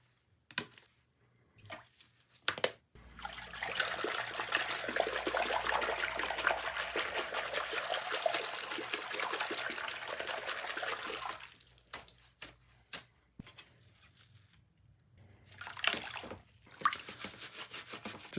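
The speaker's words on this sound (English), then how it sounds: "Just using a nice gentle paintbrush, clean up this plastic and the soapy water." Soft brushing and trickling water as a gentle paintbrush with soapy water scrubs a plastic part from an abandoned PS5 console; a steady wet swishing wash runs for several seconds between a few brief clicks and handling noises, with no talking.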